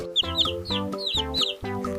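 A farm hen gives rhythmic, nasal clucks close by, while thin, high chirping peeps repeat over them in a quick pattern. No one speaks.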